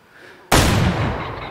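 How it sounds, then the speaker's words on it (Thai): A loud gunshot from the hunting video game Way of the Hunter cracks suddenly after a quiet lead-in and leaves a long rolling echo. "ใครเป็นสายชอบฟังเสียงปืนนี ่ถูกใจแน่นอนครับ"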